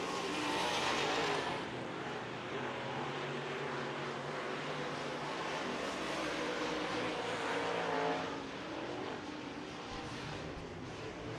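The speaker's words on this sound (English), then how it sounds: "Kyle Cole also on the racetrack, another spec-powered assassin at 81K" A USAC spec-powered sprint car laps the dirt oval at Red Hill Raceway, its engine roaring steadily at a distance with a constant racing drone and no talk.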